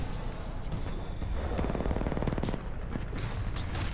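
Rapid bursts of SMG fire in Titanfall 2 crackle in quick rattling strings over a busy battlefield rumble, loud and close, with sharp distant shots scattered around and no voices.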